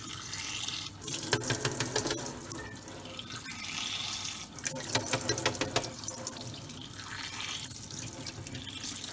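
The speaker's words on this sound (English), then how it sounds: "run the water inside" Water pours steadily from a tap, splashing and gurgling into a container, with the flow changing in bursts.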